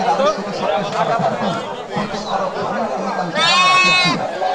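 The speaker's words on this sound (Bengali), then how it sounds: "আমাদের দেখেন দেশি জাতের ছাগল, এটা বুড়ানি ছাগল" Native Bengal goats bleat at a crowded livestock market, one loud, clear bleat standing out near the end over busy chatter and talking voices throughout.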